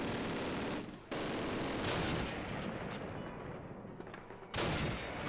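Dense gunfire rattles in the World War II shooter Call of Duty (2003), a continuous loud fusillade that cuts out for a moment and then resumes.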